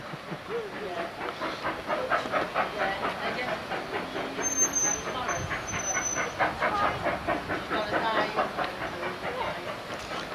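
Steam train passing at a seaside station, a steady rhythmic chuffing and hiss at a moderate distance with a brief high whistle-like tone midway, faint voices in the background.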